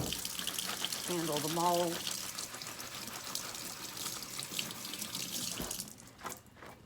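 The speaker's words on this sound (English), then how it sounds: "I'm just gonna wash my hands off a second" Running tap water splashing over hands at a sink while making goat milk soap, a steady close wash that stops near the end, with a brief voice speaking partway through.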